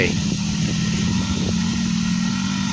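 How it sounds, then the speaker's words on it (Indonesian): A motorcycle hauling a load of wood rumbles steadily at close range in a Sundanese village, its low engine drone continuous throughout, with a voice talking over it. "Yang bawa kayu pakai motor."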